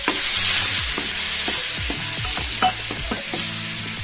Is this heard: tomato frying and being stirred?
yes